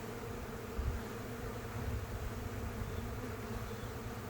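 Honeybees buzz steadily around an open hive on a sunny day, a dense, continuous hum close by with slight swells, no talking.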